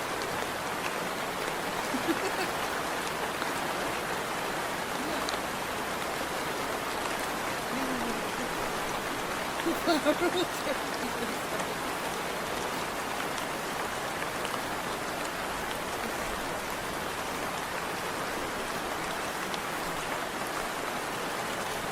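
Steady, even rain fills the whole stretch as a continuous wash of noise, with no clear voices standing out above it.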